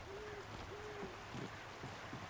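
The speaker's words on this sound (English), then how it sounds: "Birds." Birds calling in the video game Alan Wake, a few short whistled, sliding calls repeated in quick succession over a low ambient bed, fairly faint and with no talking.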